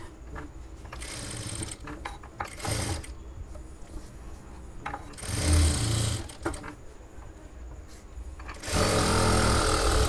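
Sewing machine running in bursts while basting a blouse lining with loose temporary stitches, short runs separated by pauses, with a longer steady run at the end; close and fairly loud, no talking.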